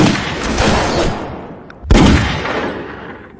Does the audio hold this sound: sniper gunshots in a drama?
yes